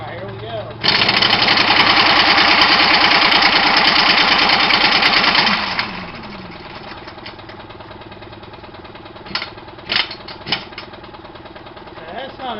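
An engine on a teardown stand runs loud and steady while warming up, with a rough, knocking rumble for about five seconds before it drops to a quieter idle, followed by a few sharp clanks.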